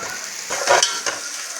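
Food sizzles and crackles steadily in a hot pan while dum biryani is being cooked, with brief louder stirring surges and no one speaking.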